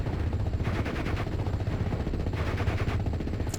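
German 88mm guns fire in the Steel Division: Normandy 44 wargame amid a thick, continuous clatter of machine-gun and rifle fire, loud and rapid with repeated sharp reports.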